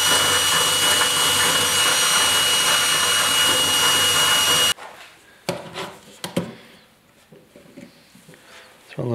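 A loud, steady whining power drill runs for several seconds into a Yamaha RS 100 motorcycle fuel tank, then stops, followed by scattered clanks and handling noises.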